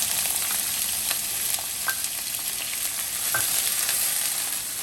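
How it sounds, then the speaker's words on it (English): Onions frying in a pan for paneer tikka masala, with a steady close sizzle broken by light scraping and clinking taps of a spoon as they are stirred, no voices. "we are also going to put our onions in, and we are going to roast"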